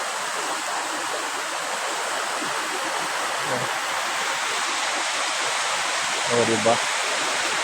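Steady broadband rush of a river flowing behind a house beside green rice paddies, continuous and fairly close, with someone briefly speaking over it.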